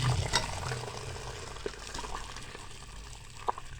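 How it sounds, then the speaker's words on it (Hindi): Chicken stock with vegetables pours through a mesh sieve, a soft continuous trickle and splash of liquid with a couple of faint clinks, close and quiet, without talking. "हम इसको छान लेंगे अब ताकि हमारा चिकन अलग हो जाए और यखनी अलग हो जाए"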